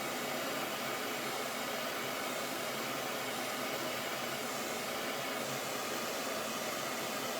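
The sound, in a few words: MAPP gas torch burning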